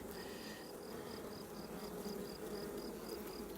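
Honeybees in a newly split nucleus colony during a hive inspection give off a steady, even buzzing hum close by, with no voices over it.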